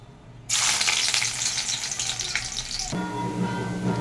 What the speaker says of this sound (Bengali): আমি এখানে ডাল চচ্চড়ির জন্য আগে পেঁয়াজটাকে আর রসুনটাকে ভেজে নেব